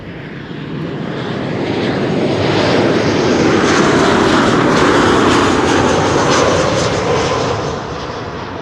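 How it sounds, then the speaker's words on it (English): A Transavia airliner arriving at Schiphol from Palma de Mallorca roars steadily and close, swelling to a peak mid-pass and then easing off, with no voices. "Transavia arriving from Palma de Mallorca."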